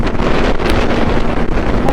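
Steady, loud wind buffeting a helmet microphone while riding a Suzuki GSR 600 naked motorcycle at highway speed, around 120 km/h, a continuous roar with no voice over it.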